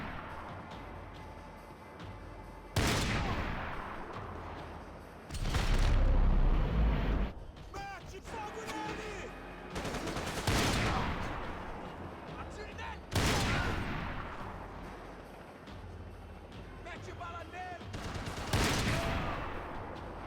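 Bursts of sniper fire and gunfire from the video game Max Payne 3, several loud sharp blasts with long decaying tails spread across the stretch, amid game effects.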